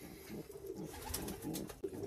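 A young racing pigeon coos softly in its nest, a few low murmuring coos spread over two seconds, close and quiet with no talking.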